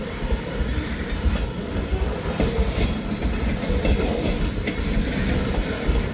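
Freight cars led by a GP38 locomotive roll steadily past in the rain, a continuous close rumble with faint rhythmic wheel clatter on the rails throughout, no voices.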